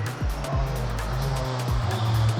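Cars speeding past one after another at a motor event, each pass a quick rising-and-falling engine whoosh, with several distinct passes spaced through the clip over a steady engine drone, fairly close and loud.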